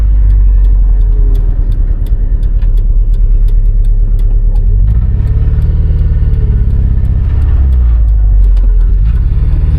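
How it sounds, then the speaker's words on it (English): A car engine drones steadily while driving, with a loud low exhaust rumble and faint rattling ticks over it, rising briefly as it accelerates. "You can hear the rattle and the exhaust."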